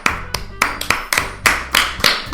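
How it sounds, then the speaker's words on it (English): Applause in the Doki Doki Literature Club video game, a series of sharp claps at an uneven pace, close and distinct, with no voices over them. "I'm the first to start applauding."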